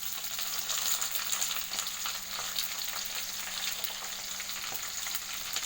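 Small onions and curry leaves fry in a pan, giving a continuous bright sizzle and crackle with occasional stirring, steady and close with no voices.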